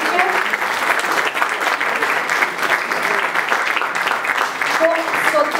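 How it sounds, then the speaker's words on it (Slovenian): Sustained applause from an audience honouring business competition finalists at an awards event, dense steady clapping filling the room for the whole stretch with no pauses. "Še en aplavz prosim za vse."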